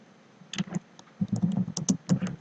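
Typing on a computer keyboard while searching online, a few quick keystroke bursts separated by short pauses, close and fairly quiet.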